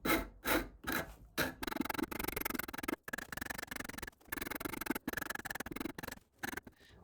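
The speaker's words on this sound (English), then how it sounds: "I also used a Shinto rasp to round over the end of the hand." A Shinto rasp rounds over the end of a wooden chisel handle, starting with a few separate strokes, then rapid, rhythmic scraping in dense runs broken by short pauses, close and fairly quiet.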